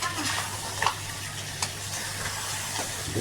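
Crab masala sizzles in a pan under constant stirring. The frying noise is dense and close and continuous, with a few louder scrapes and no speech.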